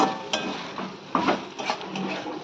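Boneless chicken thigh is stirred and sautéed in a pan for chicken chaap, with soft scraping of a spatula and a few light clinks against the pan over a faint sizzle, no talking.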